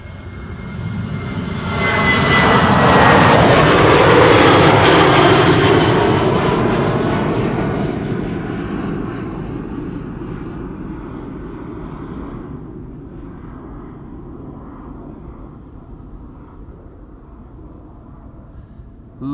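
A passenger jet departs Amsterdam Schiphol Airport, its engine roar building to a loud, close peak with a whining tone, then fading into a distant rumble as it climbs away.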